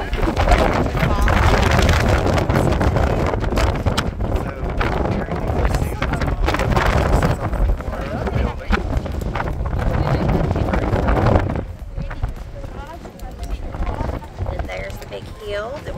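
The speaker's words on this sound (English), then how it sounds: "It's just so windy." Strong gusting wind at the Acropolis in Athens buffets the microphone with loud, continuous roaring noise, easing somewhat near the end, while people talk over it.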